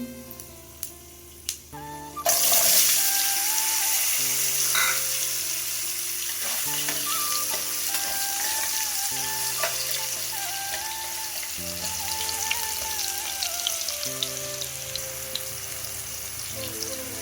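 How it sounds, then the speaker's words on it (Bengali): Diced potatoes hit hot oil in a pan with dry red chillies, bay leaf and five-spice, bursting into a loud sizzle after a few soft knocks, then frying steadily with occasional stirring scrapes. "এর মধ্যে দিয়ে দেবো ডুমো ডুমো করে কেটে রাখা আলুগুলো"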